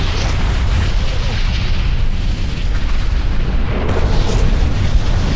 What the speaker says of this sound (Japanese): 陸奥が突如大爆発を引き起こし、多くの乗員と共にそのまま沈没してしまったのです。